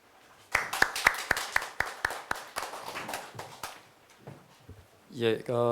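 Seminar audience claps briefly: a burst of sharp, separate hand claps close by that thins out within a few seconds, followed by a speaker beginning to talk.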